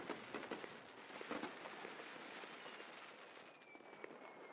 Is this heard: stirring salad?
no